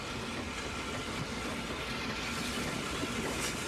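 Ex-War Department austerity 0-6-0 steam locomotive, WD number 190, approaching a signal box and run-round loop: a steady, broad rumble with hiss and faint rail clatter, continuous and moderately loud.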